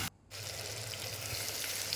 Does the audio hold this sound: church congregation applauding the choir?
no